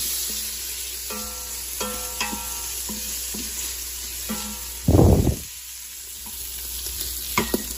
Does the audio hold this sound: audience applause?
no